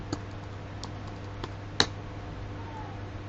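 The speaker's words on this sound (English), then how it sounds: "So type here cmd and type here java dash" A few sparse, light keystrokes click on a computer keyboard while typing a command, faint and spaced apart over a quiet hum, with one slightly louder tap near the middle.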